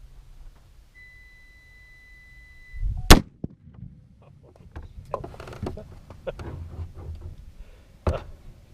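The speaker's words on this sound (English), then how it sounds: "Let's shoot a Bud Light can." A Serbu BFG-50 .50 caliber rifle fires at a Bud Light can outdoors: one sharp, loud blast, then a quieter stretch with faint voices, then a second sharp crack.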